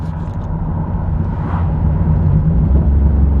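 A modified minivan engine revs loud and close with a steady low rumble that swells and climbs in pitch partway through, and no one speaks over it.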